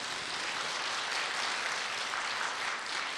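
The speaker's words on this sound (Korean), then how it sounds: "여러분 이런 때 박수 한번 쳐도 되는 건데" A lecture audience claps in a steady, dense patter for a few seconds, even in level and fairly close, with no voices over it.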